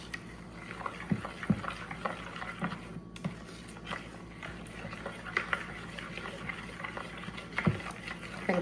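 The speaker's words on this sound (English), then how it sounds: "Just stir this around." A spoon stirs a vanilla mixture in a bowl, giving a soft, continuous wet swishing with small irregular clinks and splashes, close and fairly quiet throughout.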